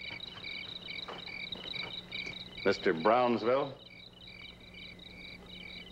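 Crickets chirp in a steady, pulsing chorus that runs through the whole stretch, moderately close; a voice briefly speaks over them partway through.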